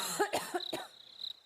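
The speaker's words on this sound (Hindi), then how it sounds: "खांसते हुए कहा" A young woman coughing after being pulled from a pool in an audio drama, several close, harsh coughs in quick succession with a faint steady high tone behind.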